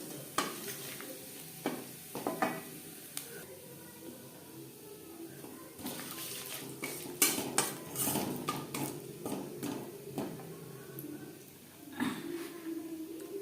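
Whole cumin seeds frying in leftover fish-frying oil in a pan, a faint steady sizzle broken by clinks and scrapes of a utensil stirring against the pan.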